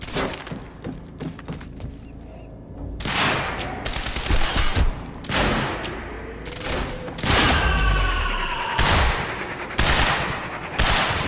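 Gunfire in the video game Quantum Break on hard difficulty: loud, rapid bursts of automatic fire repeat throughout, broken by short pauses, with sharp impacts and debris crackle mixed in.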